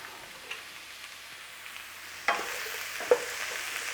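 Onions caramelising in a dry pan with no oil for a chicken bhuna, a soft continuous sizzle broken by a couple of sharper scraping stirs.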